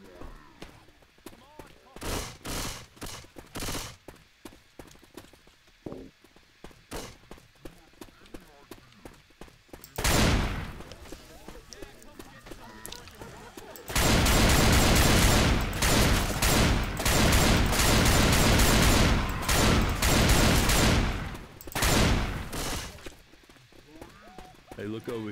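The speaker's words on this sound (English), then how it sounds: "It's a machine gun." A machine gun fires in Left 4 Dead 2 gameplay in loud sustained bursts, the longest lasting several seconds, broken by shorter volleys and quieter game sounds, with players talking over it at times.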